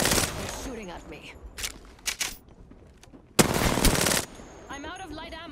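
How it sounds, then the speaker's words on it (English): Automatic gunfire in the video game Apex Legends, loud bursts of rapid shots in several short volleys with a long sustained burst near the end, mixed with game effects and some talk. "They're shooting at me."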